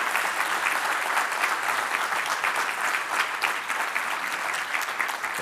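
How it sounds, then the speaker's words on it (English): An audience at a talk on LGBTQ+ inclusion applauds loudly and continuously, a thick, even roar of clapping with no pauses across the whole stretch. "please give me a big applause if you agree with this"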